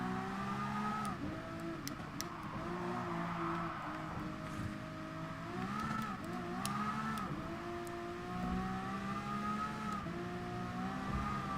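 A Ferrari LaFerrari races in Gran Turismo Sport. The engine note is quiet but continuous, rising and falling with gear changes and throttle lifts, and there are faint clicks and knocks in the background.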